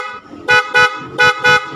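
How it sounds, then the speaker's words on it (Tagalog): Honda XRM 125 Fi motorcycle horn, fitted with a relay, blasting four short, loud honks close by in two quick pairs, with the engine not running. "Ito yung busina niya."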